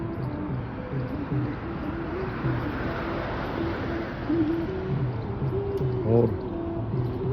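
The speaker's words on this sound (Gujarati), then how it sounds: "જો આ સુંદર મોરનું દ્રશ્ય પણ નેચર આપણને બતાવી રહ્યું" Peacock in Rajasthan near Jodhpur giving a loud, rising call with a few repeated notes, set against a steady broadband rush of wind or traffic noise, with a voice speaking faintly nearby.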